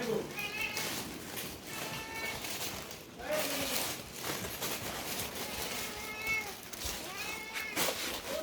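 Several cats meow repeatedly near a home where chicken is being handled, high drawn-out cries overlapping and recurring over a faint background murmur and clatter.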